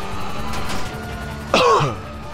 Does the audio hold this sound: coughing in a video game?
yes